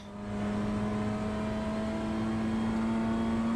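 A BMW M2 accelerates out of a corner with a steady, sustained engine drone holding a strong even tone, rising quickly at the start and staying loud and close with no talk.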